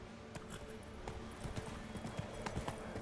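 Horse hooves clip-clopping in The Witcher 3 on PS5, a faint, steady walking rhythm of soft hoof beats under low game ambience.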